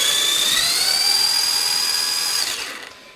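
A MACE 2GO BSR BT-4 RC touring car's electric motor, held in place on a box, whines at a high steady pitch that rises slightly, then winds down and fades to quiet near the end.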